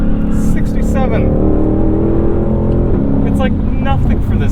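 A 2021 Ford Mustang Shelby GT500 engine drones steadily from inside the cabin while driving, a low continuous rumble with brief surges.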